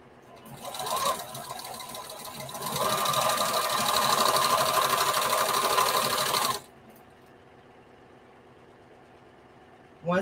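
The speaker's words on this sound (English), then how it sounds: "just going to turn my fabric so I can sew straight down on the seam of my skirt" A sewing machine stitches straight down the fabric seam of a skirt, a loud, close continuous whir that builds, holds for several seconds, then stops abruptly, leaving a quiet room hiss and a final short clunk.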